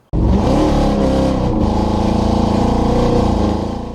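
A 2004 Pontiac GTO engine bursts to life and revs hard and loud, holding a rough, throaty roar close by for several seconds before easing off slightly.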